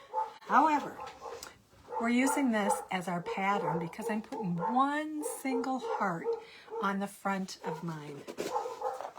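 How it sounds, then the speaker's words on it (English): Excited dogs bark, yip and whine at a neighbor's company, a busy stream of calls that runs under someone speaking close by. "Excuse the dogs, I am so sorry"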